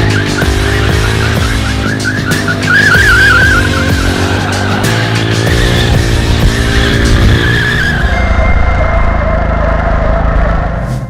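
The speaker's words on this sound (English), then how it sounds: "let's warm up the tires with some rolling burnouts" A drift motorcycle doing rolling burnouts to warm its tires: a loud, continuous engine roar with rising and falling revs and tire screech, close by, easing off near the end.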